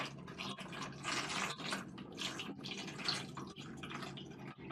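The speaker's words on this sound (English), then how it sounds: "So we will pour cold water" Cold water is poured over a bottle in a physics demonstration on atmospheric pressure, making a steady splashing, trickling wash throughout with uneven surges, close and moderately loud with no talking.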